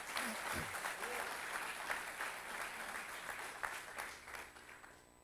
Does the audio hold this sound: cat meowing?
no